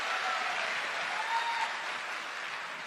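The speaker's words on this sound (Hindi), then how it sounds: "इस पे ताली जरा जोर से बजाओ।" A crowd at a good-governance gathering in Bhopal applauds with dense, continuous clapping that stays loud for the whole stretch and tapers slightly at the end.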